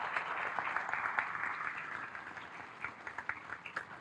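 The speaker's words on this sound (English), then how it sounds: "Let's give her another round of applause." An audience at a middle school dedication ceremony applauds in a steady wash of clapping that gradually thins into scattered individual claps, heard from a distance at moderate volume.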